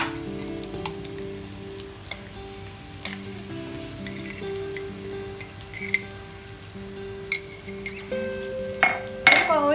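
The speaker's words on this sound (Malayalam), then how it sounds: "ഈ ചട്ടി ഭയങ്കര ചൂടാണ്, അത് കാരണം തീ ഓഫ് ചെയ്തതിന് ശേഷം ഞാൻ ഇതിന്ന് കുറച്ച് അരപ്പ് ഒഴിച്ചു കൊടുക്കുകയാണ്" Ground coconut paste hits a very hot pan with the flame switched off for a Kerala-style ginger curry, giving a steady bubbling sizzle with a few light clinks of a utensil, all over quiet background music.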